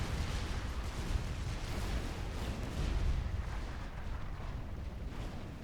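Fatboy units firing in Supreme Commander 2, a dense, continuous rumble of distant artillery-like blasts and booms rolling steadily without pause, with no voices.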